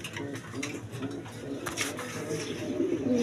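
Pigeons kept for sale coo softly in low repeated murmurs, close by, against faint background noise and a little talk.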